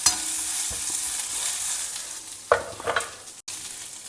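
Sliced onion and jeera stir-fried in a pan for a crispy bitter gourd fry, a steady close sizzle with a few scraping stirs toward the end and a brief dropout near the finish.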